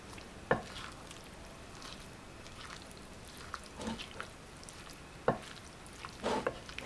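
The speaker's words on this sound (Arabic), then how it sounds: "غادي نخلط هاد التتبيله بهاد الشكل كيف كتلاحظوا معايا، غير شويه بشويه يعني من الاسفل للفوق" Marinade with oil being stirred and folded from bottom to top, soft wet squelching with a few sharp clicks of utensil against the bowl, quiet and close.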